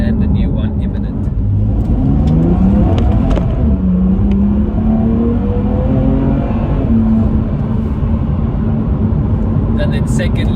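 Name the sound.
BMW M2 Competition car accelerating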